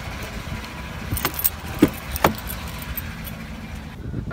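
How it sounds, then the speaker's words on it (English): Car keys jangle inside a parked car, with a few sharp metallic clinks and rattles standing out from a low background hum before the sound cuts off. "I forgot I left the keys in here."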